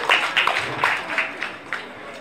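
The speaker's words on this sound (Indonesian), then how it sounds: "Tepuk tangan untuk Pak Peter" An audience at an Indonesian book discussion event gives a short burst of clapping, several sharp claps fading over about two seconds, with a voice speaking faintly beneath.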